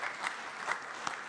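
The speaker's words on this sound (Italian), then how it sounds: "facciamo un applauso all'onorevole Bergamini" An audience applauds a member of parliament at a human rights event in Rome, with steady, moderately loud clapping that fills the whole short moment.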